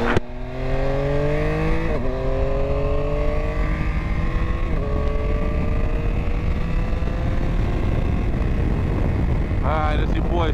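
A 2022 Yamaha Tracer 9 GT motorcycle with a windscreen fitted, heard while riding: engine tones rise through gear changes with steady wind rush, loud and close, and a brief rev near the end.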